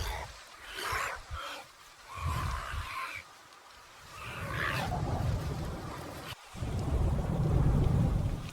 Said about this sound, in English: In the midst of a sudden tropical downpour